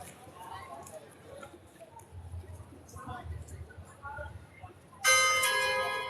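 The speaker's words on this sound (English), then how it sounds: "Bing bong, that's the 45 bell." A bell chimes the quarter to the hour at Horse Guards in London, ringing loud and clear near the end with a lingering ring, after quiet outdoor ambience with faint voices.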